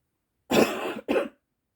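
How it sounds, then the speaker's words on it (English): Two harsh, close coughs in quick succession from a single person, the first longer and rougher, the second shorter, with silence before and after. "as soon as I start talking, I start coughing"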